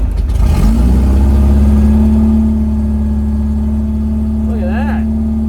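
A car engine starting and revving after sitting unused for a few days, then settling into a loud, steady, close idle with a strong low hum, and a brief voice near the end.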